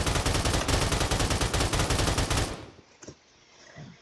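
Rapid automatic SKS rifle fire in a Roblox gun-testing session, a dense loud burst of shots for about two and a half seconds that cuts off abruptly, followed by a few faint clicks and quiet shuffling.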